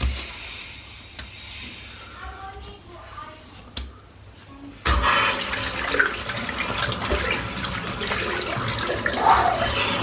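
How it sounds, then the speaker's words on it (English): Hot water running from a bathroom tap during a wet shave, starting as faint trickles and drips, then gushing steadily and loudly into the sink, close by. "Hot water."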